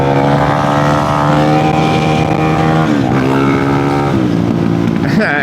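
A single-cylinder supermoto motorcycle engine droning loudly and close, with a steady revving tone that dips twice as the throttle shifts.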